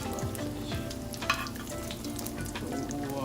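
Chicken potato kababs frying in hot oil, a steady close dense sizzle with crackling pops throughout, no talk over it.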